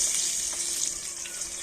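Fish frying in hot oil in a home kitchen, a steady hiss and sizzle that stays at an even level throughout with no talking.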